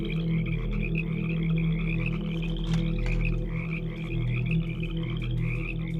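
Frogs croaking in a dense chorus, steady rhythmic calls layered over a continuous low hum, fairly loud and close, with no talking.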